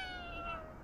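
A single short cat meow rises and falls, fairly faint, in the video game Ghostwire Tokyo, with no talk over it.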